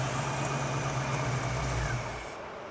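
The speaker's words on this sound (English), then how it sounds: "you'll see the vacuum gauge shoot up and it'll stall the engine as well" A classic car engine rumbles steadily at idle, then stalls near the end as the vacuum gauge shoots up, leaving near silence.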